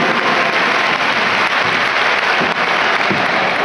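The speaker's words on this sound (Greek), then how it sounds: "θέλω να δώσω ένα πολύ καλό θερμό χειροκρότημα εδώ στον Αντώνη τον φίλο μου" An audience at an awards ceremony breaks into loud, sustained applause, a dense unbroken wash of clapping that goes on steadily throughout, with no speech above it.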